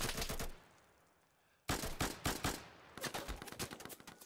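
Gunfire from the video game Insurgency: a rapid burst of sharp shots, a brief lull, then repeated loud cracks in quick bursts at close range, with no talking.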